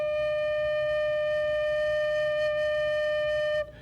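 A single sustained note on a bamboo flute, pure and steady with clear overtones, held loud and alone for about three and a half seconds before cutting off.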